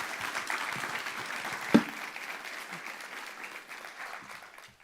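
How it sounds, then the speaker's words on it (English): Audience applause for Will at a public forum on healthy food access in Georgia, with moderate, steady clapping from a room of people that gradually fades, interrupted by one brief louder knock partway through. "So please give Will a round of applause."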